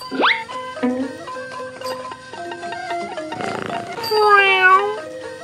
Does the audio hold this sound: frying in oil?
no